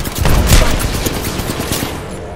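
Heavy rapid gunfire in the video game Apex Legends, a loud continuous burst of shots close at hand that stays dense for the whole brief stretch.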